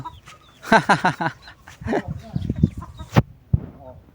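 Farmyard chickens cluck loudly and close while jostling calves for their feed, a quick run of clucks followed by scattered softer ones, with a voice briefly heard in the mix.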